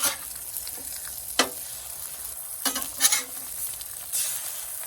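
A carnivore breakfast sandwich's fillings sizzle steadily in a hot pan, with a few sharper crackles and bursts as pieces are flipped.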